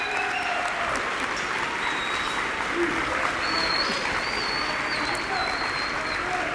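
A crowd applauds steadily and loudly at a high school letter-of-intent signing, the sustained clapping filling the room with occasional faint cheers.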